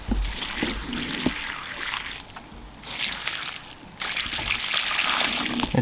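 Water splashes and trickles steadily from a can or hose onto rescued tomato plants in a no-dig mountain garden bed, a close, continuous soaking with brief pauses.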